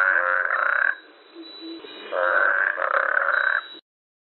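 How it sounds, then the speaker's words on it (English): A toad gives two long, loud trilling croaks close by, separated by a quieter pause with faint grunts, then the sound stops abruptly. "Toad."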